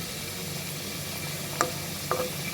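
Fish fries in a pan for a home-style curry, a steady close sizzle with a couple of brief clinks of a utensil near the end and no talk.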